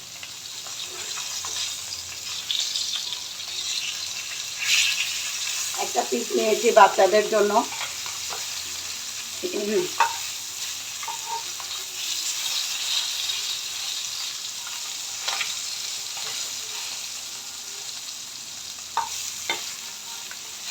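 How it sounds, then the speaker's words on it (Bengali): Rohu fish frying lightly in oil in a pan, a steady close sizzle with occasional spatter pops, while someone speaks briefly over it. "এখন মাছটা ভাজি করে নিচ্ছি। এটা হচ্ছে রুই মাছ"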